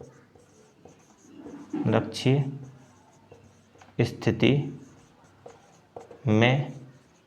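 Pen or chalk writing out notes during a physics lesson, with a teacher speaking over it in bursts, the steady scratching strokes mostly sitting beneath the voice.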